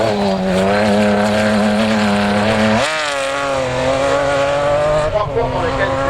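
A rally car on a special stage of the Dunes & Marais 2013 rally near Maubeuge, its engine droning loudly and steadily with pitch shifts as it changes gear, while a commentator talks over it.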